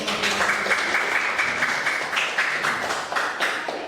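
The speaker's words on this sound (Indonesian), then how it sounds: "Tepuk tangan untuk kelompok 1." A classroom group of students receives a burst of steady clapping from the class, dense and lively, lasting a few seconds with no talk over it.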